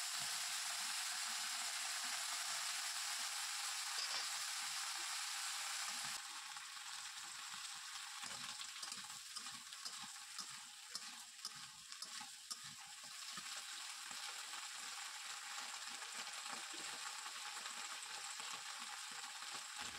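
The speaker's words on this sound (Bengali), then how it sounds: "তেলে দিয়ে দিয়েছি 5 ফোড়ন আর শুকনো লঙ্কা" Five-spice seeds and dried red chillies fry in hot oil with a dense, even sizzle that softens slightly partway through, close and continuous, no voices.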